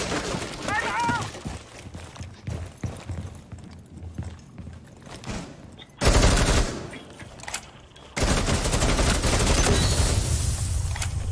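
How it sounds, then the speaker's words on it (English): Gunfire from the video game Rainbow Six Siege bursts out in loud, rapid automatic volleys over the second half, following sparser shots and clatter, with voices talking underneath. "And that Twitch is trying hard to control that recoil."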